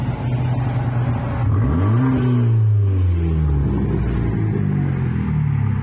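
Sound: Fiat 500 Abarth exhaust sound

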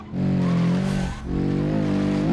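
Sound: car driving in video game BeamNG.drive

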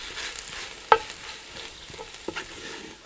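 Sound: fish goulash ingredients frying in Dutch oven

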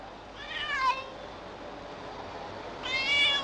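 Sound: cat meowing

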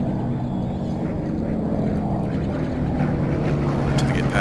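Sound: patrol aircraft flying by in video game

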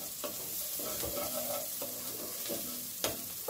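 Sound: onion sautéing in a pan

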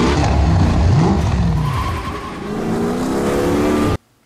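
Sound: car engine revving in a movie scene

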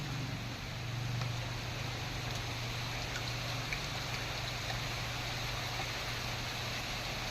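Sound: early morning rain

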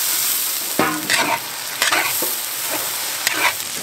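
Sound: crayfish stir-fried in a wok with chili and bean paste

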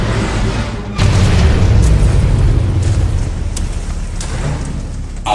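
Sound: base explosion in video game Command & Conquer: Rivals

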